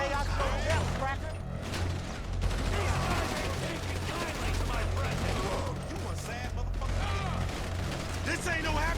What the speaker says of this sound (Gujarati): અહીંથી ડાયરેક્ટ ફાયર મારે બહુ ફાયરિંગ કરે છે